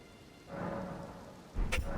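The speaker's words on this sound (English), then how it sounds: "It rains still." Rain falls in the video game Elden Ring, a steady wash of patter that swells midway and grows louder near the end with a brief sharper burst, with no voices.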